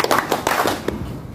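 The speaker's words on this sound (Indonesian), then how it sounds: "Kita tepuk lagi sebelum ditutup." A group playing a rhythmic hand-clapping game (tepuk), several quick sharp claps in an uneven burst, close and fairly loud, ending abruptly.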